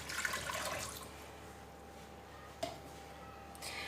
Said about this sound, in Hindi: और साथ ही डालेंगे ये वाला एक मग पानी का।